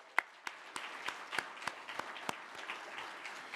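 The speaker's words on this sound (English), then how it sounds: "And so I want to ask everyone to join me in a round of applause for Caitlin, Jill, and the symposium editors" Audience applauding after a keynote at a law school symposium: a modest room of scattered, distinct claps at first, thinning toward the end, fairly faint and distant with no talking over it.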